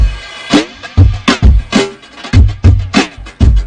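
Punchy breakbeat through a Glou-Glou Flancher 9 flanger pedal with some dry signal blended, a sweeping, whooshing modulation on the kicks and snares, steady and loud with no voices.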